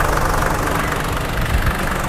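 A Toyota Land Cruiser VX80 engine idles steadily right after starting, a loud, close, even rumble with no misfire or surging.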